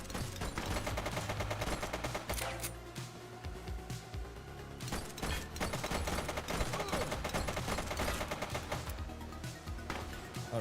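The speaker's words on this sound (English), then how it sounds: "Oh crap, a lot of bullets." Heavy video-game gunfire in a crime shootout, rapid overlapping shots from many guns in dense continuous bursts, loud and close with brief lulls between volleys.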